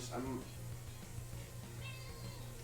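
A pet cat gives a short, fairly close meow near the start, with a steady low electronic hum running underneath and another faint cry later.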